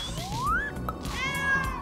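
A cat meows close by, a rising call followed by a second longer meow, heard alone over a steady background hum.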